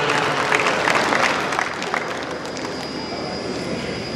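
A crowd at a national party convention applauds, a dense, steady wash of many hands clapping at once that is loud at first and eases slightly, with a faint hum running beneath.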